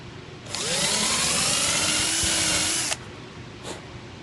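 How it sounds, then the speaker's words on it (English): A power drill whirs loudly for about two and a half seconds, boring a hole for a cribbage pin, its pitch dipping as it bores, then stops, followed by a brief faint rev. "Drill a hole"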